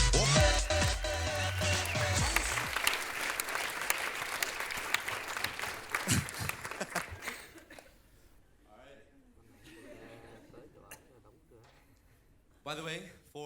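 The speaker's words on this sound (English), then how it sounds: "A round of applause." A live conference audience applauds loudly for a comedian, with dense clapping and some chuckles for about seven seconds before it fades to scattered claps and murmurs, ending in a brief final burst.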